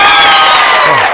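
Audience applause and cheering at a comedy show stage party, a dense loud burst of clapping and shouts that fills the short moment and fades slightly at the end.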